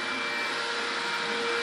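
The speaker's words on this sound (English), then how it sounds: "That is a vacuum cleaner." A vacuum cleaner runs inside a house with a loud, steady whine and rushing hum that holds unbroken for the whole moment, with no voices over it.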